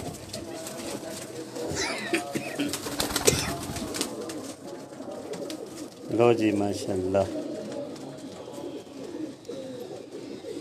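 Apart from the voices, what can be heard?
pigeons cooing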